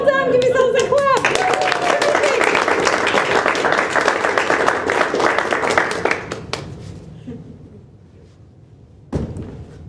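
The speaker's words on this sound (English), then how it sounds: "Give yourselves a clap." Audience at a presentation skills session clapping after a group singing exercise, dense applause sustained for several seconds before thinning and fading, with voices and a brief thud near the end.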